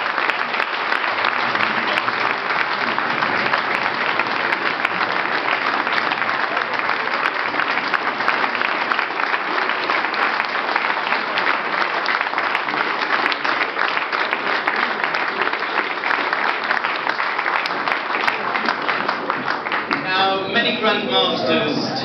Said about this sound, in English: So please, can I have a well-deserved round of applause for Mr.